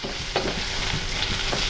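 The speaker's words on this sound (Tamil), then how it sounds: "வெங்காயம் கொஞ்சம் பொன்னிறமாக வறுக்கணும்." Onions with curry leaves frying in a pan for a South Indian dish, a loud, steady close sizzle with a couple of soft stirring scrapes, no voices.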